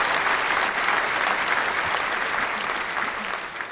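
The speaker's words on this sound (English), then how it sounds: "Nice to see everybody clapping about the old Pulse Chain." A crowd of audience members claps steadily at a live crypto talk. The applause is loud, dense and continuous, then tapers slightly toward the end, with no voices clearly heard over it.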